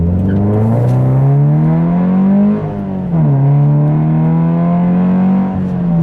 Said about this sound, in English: I'll give you a nice little acceleration to end.